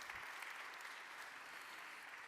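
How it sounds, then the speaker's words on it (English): Audience applause at a deep learning talk, a steady, dense patter of clapping from a crowd that stays even and fairly quiet throughout, with no voices over it. "Another round of applause."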